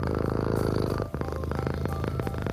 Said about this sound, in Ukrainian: заспокоює підписників муркотінням